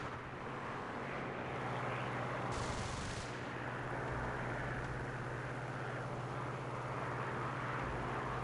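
An aircraft rear gunner's machine gun firing in a flight combat video game, a dense continuous rattle blended with a steady engine drone that fills the whole stretch, with no voices.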